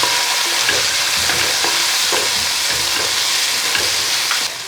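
Garlic, ginger, green chilli and small whole onions sizzle loudly in hot oil while being stirred, a close continuous hiss with repeated scraping strokes of the spoon against the pan.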